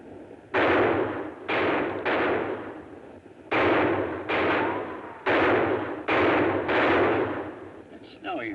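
Gunfire in a western TV episode, with a shooter on a ridge: a run of loud, close, sharp shots with a rolling echo, some shots in quick pairs and others spaced apart, over quiet outdoor background.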